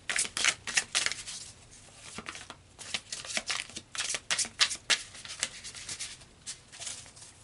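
Tarot cards being shuffled by hand, a run of quick riffling and slapping bursts in an irregular rhythm, close and moderately quiet, without speech.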